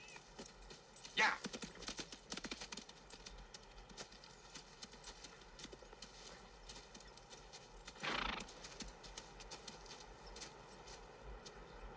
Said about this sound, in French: On fait quoi des chevaux maintenant?